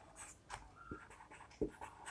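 Chalk or marker strokes on a classroom board as the symbol for aluminium is written, a few short scratchy marks spaced out, quiet and close.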